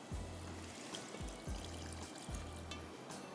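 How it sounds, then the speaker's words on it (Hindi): Water is poured into a pot of chicken and potato pulao on the stove, a soft steady trickle and splash heard under a recurring low hum from the kitchen. "थोड़ा सा पानी डाल रही हूँ"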